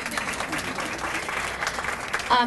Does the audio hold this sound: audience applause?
yes